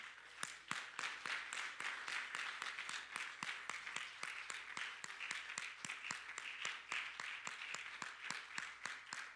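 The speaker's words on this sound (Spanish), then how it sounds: "Dele un aplauso al Señor en esta." A church congregation claps along in a quick, even rhythm, a long run of sharp hand claps keeping a steady beat throughout, heard faintly as if from a distance.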